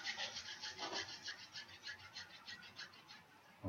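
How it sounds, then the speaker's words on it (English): Palms rubbed briskly together during a yoga session, making a soft, quick, rhythmic swishing of back-and-forth strokes, faint and close with no voices. "Now rub your palms"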